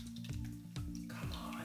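Liquid from a beer cocktail drips and trickles steadily through a strainer into a glass, pushed with a spoon, with soft wet spattering over a continuous low hum.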